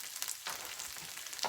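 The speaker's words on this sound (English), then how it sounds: "we're gonna heat up the the butter for the egg" Butter heats in a pan on medium-high for eggs and gives a close, steady crackling sizzle with brief sputters, no voice over it.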